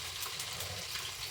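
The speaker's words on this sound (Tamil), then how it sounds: "எண்ணெய் காய ஆரம்பித்து மீன் நல்லா சுட சுட பொரிக்க ஆரம்பித்தாச்சு." Fish frying in hot oil gives off a steady, dense sizzle and crackle, close and continuous, with no voices.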